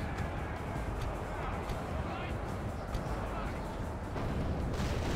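Troops firing during a Medieval 2 Total War battle, heard as a dense, continuous roar of battle noise with no clear breaks, steady and loud throughout.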